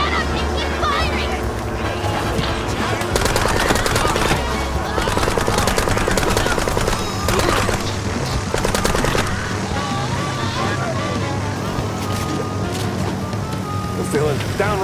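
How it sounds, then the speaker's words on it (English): Gunfire fills the MOUSE: P.I. For Hire video game in rapid, repeated machine-gun bursts. Loud, close shots come in clusters over a roaring ambient bed, with character voices shouting at intervals. "Just shut up and keep firing!"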